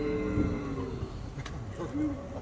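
A stage sound effect of the sun god's cattle gives a few low, drawn-out moos over a steady background hum, moderately faint and with no voices.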